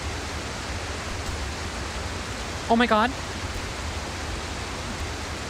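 A waterfall in a climbing video game gives a continuous, even rushing hiss that fills the whole stretch at a moderate level. A player briefly exclaims partway through.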